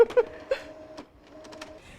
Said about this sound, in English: it's going to send it right to the printer, and I'll have my photo in just a few seconds